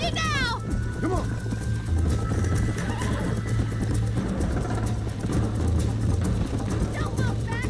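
A horse gallops in Red Dead Redemption with steady rhythmic hoofbeats and a loud whinny near the start, over a constant low rumble, while a voice talks over the action.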